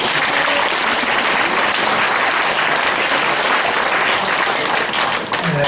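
A large audience at a Catholic senior academy's closing ceremony bursts into loud, sustained applause, a thick, continuous roar of many clapping hands filling the room from start to finish.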